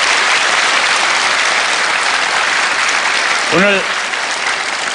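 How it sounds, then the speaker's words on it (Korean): A studio audience at a Korean lecture show claps loudly and steadily throughout, a dense applause with a brief voice rising over it near the end. "이렇게 훌륭한 일을 하시는 조병국 씨에게 다시 한번 큰 박수 부탁드리고요"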